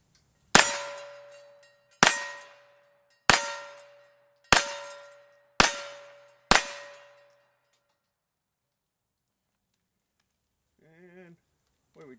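Six sharp 9mm pistol shots fired at a Halloween pumpkin outdoors in Murphy, North Carolina, evenly spaced with a brief ringing tail on each, then silence before a person briefly speaks at the end.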